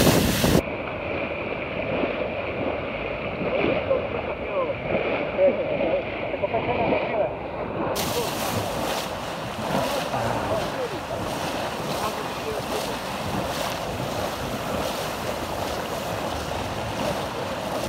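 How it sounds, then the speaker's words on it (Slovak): Sea waves slap and rush against a sailing boat off Croatia, joined by strong wind buffeting the microphone, while people on board talk and shout over the steady surf. "Idú vlny, vlny!"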